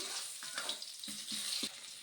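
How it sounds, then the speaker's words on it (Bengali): A steady sizzle of onions frying in hot mustard oil, with a few soft stirring scrapes breaking through, close and continuous. "পেঁয়াজগুলো একটু ভালোভাবে লাল লাল করে ভেজে নিতে হবে"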